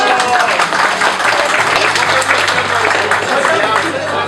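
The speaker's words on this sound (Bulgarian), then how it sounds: "Аплодисменти все пак" Applause at a Bulgarian awards ceremony, dense and steady from a crowd for several seconds, with cheering voices and chatter mixed through it.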